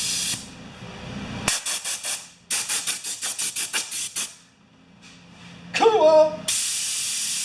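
A dropped DeWalt 4-gallon air compressor runs with rapid, evenly pulsing bursts of loud air hiss, then a short squeal, and finally a steady rushing blast of air.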